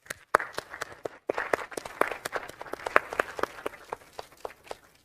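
A small conference audience at a methane and biogas forum in Mexico claps to welcome a panel speaker, a sparse scattering of distinct hand claps, fairly quiet and uneven, with a short pause near the start.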